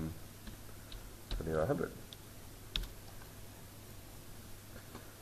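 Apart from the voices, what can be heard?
typing a value on a computer keyboard in Revit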